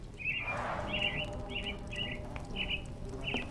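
A small bird chirps in short, bright bursts, about six evenly spaced calls over a low ambient hum in the Sherlock Holmes The Awakened video game.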